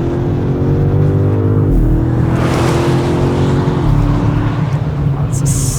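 BMW M5 Touring 2025 driving fast, its engine holding a loud, steady drone with rising harmonic sweeps as it accelerates and shifts gears, close and continuous with road and wind roar.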